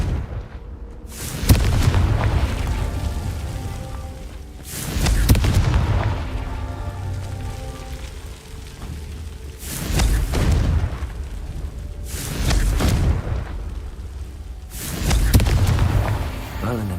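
Spell explosions from the Confringo fire spell in Hogwarts Legacy burst out as four loud, booming blasts spaced a few seconds apart, each with a sharp crack and a long rumbling decay, heard over steady game ambience.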